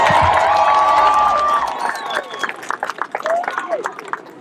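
A crowd at a high school football event cheers and applauds for a coach, loud whoops and shouting at first that give way to dense clapping with scattered individual yells, close and lively.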